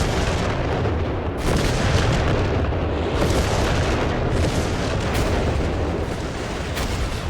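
Off-map artillery barrage striking infantry in the video game Company of Heroes 3, a dense, continuous rumble of overlapping booms and blasts, loud and sustained with no talking.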